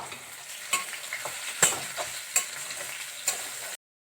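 Drumstick and mustard curry with onion, ginger and garam masala frying in a pan, stirred with a steady sizzle and a few sharp scraping knocks of the spoon against the pan, close and alone.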